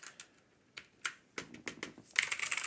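A cheap mechanical keyboard with blue switches clacks under scattered, irregular keystrokes, sharp and close, ending in a quick rapid burst of typing.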